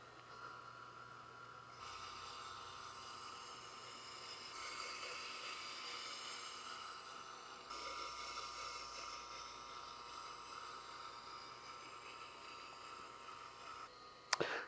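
An Almazan Kitchen Promaja knife is honed on a Tormek T-1 sharpener, producing a faint, steady whirring motor drone with a high grinding hiss that shifts slightly in intensity as the blade is worked.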